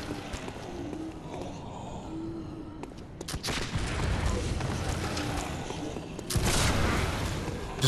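Gunfire from the game Bloodborne cracks in two sharp, loud bursts, each followed by a rumbling tail, over a busy background of game noise.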